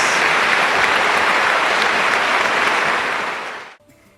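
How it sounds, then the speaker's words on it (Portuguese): A dense, steady wash of applause from a large crowd after a Catholic priest's sermon, loud and sustained, then cutting off abruptly near the end. "uma grande salva de palmas"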